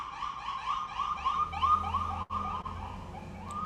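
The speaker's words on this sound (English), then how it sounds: "Sorry, there's an ambulance going by." An ambulance siren passes by outdoors, a repeating electronic wail cycling steadily and fairly loud, with a brief dropout midway and no talk over it.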